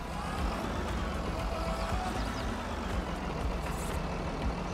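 In a farming video game on the Kolonia map, a vehicle creeps along slowly, producing a steady low engine rumble with faint hissy and clanky touches throughout.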